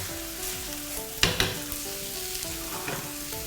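Squid fries over high heat in a pan with garlic and pepper, a soft steady sizzle punctuated by a couple of sharp clacks from a utensil against the pan, with a faint tonal hum underneath.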